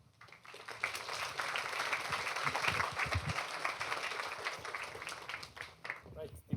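An audience at the MIT Robotics Worldwide Workshop claps for the speakers, a steady wash of applause that swells and then thins out, with a voice speaking over it.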